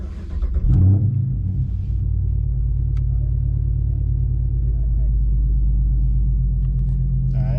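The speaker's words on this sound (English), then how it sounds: "Let's turn the car on," A 2016 Dodge Charger R/T engine fires up, then settles into a steady, deep, close rumble that holds for several seconds, with a brief burst of voice near the start.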